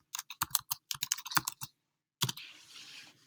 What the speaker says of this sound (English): we will begin by typing into Google